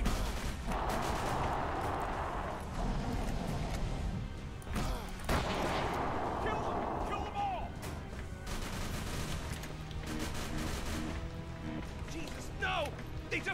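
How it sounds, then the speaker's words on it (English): A Tommy gun fires repeatedly in the horror video game Call of Cthulhu: Dark Corners of the Earth, with dense bursts and impacts running throughout while a player talks over the action. "Rounds with the Tommy gun."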